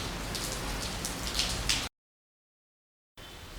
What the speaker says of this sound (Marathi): पाऊस आलाय, पाऊस चालू होता